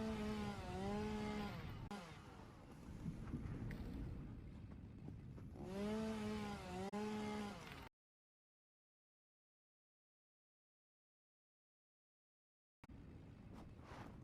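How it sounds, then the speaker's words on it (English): A chainsaw cutting down trees in Satisfactory, a buzzing motor drone with rising whines that cuts out abruptly into silence, then starts up again briefly at the end. "Chainsaw, baby. Now we can get rid of some of these pesky trees in our way."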